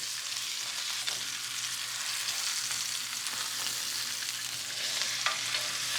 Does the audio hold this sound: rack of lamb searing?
yes